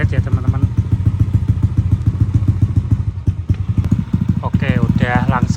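A bored-up Yamaha Aerox scooter engine idles with a steady, lumpy putter close by, while a voice speaks over it briefly near the end.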